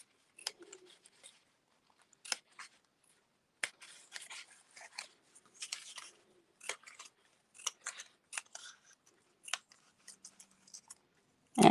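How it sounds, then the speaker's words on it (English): Paper snips cut along a crease line in paper while a crafter makes a cracker gift box: sparse, crisp snipping clicks, close and fairly quiet, in irregular bursts separated by short pauses. "I'm going to take my paper snips and I am just going to cut down along this crease line."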